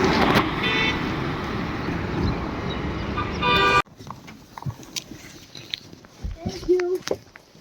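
Car arriving on the Srinagar–Baramulla highway, with a loud engine and road noise followed by a sudden cut to quieter ambience with short honks, thumps and voices nearby.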